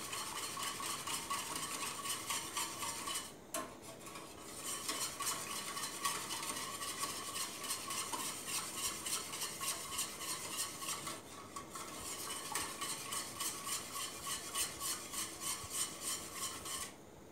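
A spoon stirs quinoa pudding in a pot in a steady, continuous scraping rhythm, close and fairly quiet, with two brief pauses and no talking.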